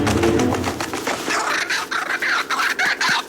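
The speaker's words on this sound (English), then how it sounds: "The resident kookaburra is high in the tree." A kookaburra calls from high in a tree in the Tasmanian bush, a loud rapid run of rhythmic cackling and chuckling pulses that keeps repeating throughout.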